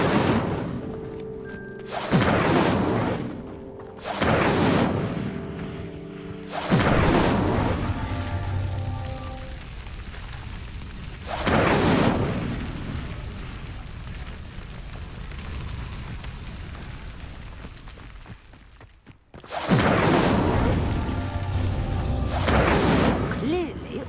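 Incendio fire spell from Hogwarts Legacy lighting pyres, heard as several loud whooshing bursts of flame with booming thuds, spaced apart and separated by quieter stretches.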